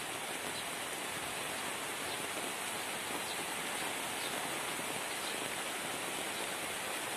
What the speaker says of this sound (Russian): Дождь льет.